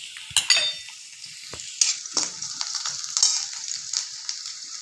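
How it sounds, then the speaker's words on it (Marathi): Chopped onion sautéing in oil in a pan before flour goes in for a Vidarbha-style ukad pendhi, giving a close, steady sizzle with scattered scrapes and stirs of a spoon. "कांदा थोडासा तांबूस रंगापर्यंत आपण परतून घेऊ"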